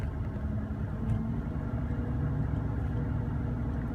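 Ford F-150 six-cylinder engine running steadily with the gas pedal held because it won't idle, a continuous low rumble at moderate level with no talk.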